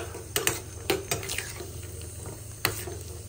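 Cashews fry in ghee in a pan on a home stove for a jackfruit dish, a soft sizzle beneath intermittent scraping and clinking as a spoon stirs the pan, with no talking.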